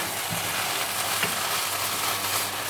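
Rice with beans being stir-fried in a pan, a continuous loud sizzle with the spoon scraping and stirring through it.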